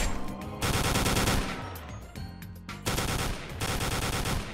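Rapid automatic gunfire in a Roblox game rattles in loud sustained bursts with brief pauses between them, close and dense, with no talking.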